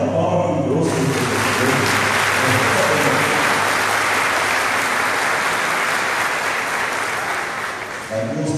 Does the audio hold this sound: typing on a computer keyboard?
no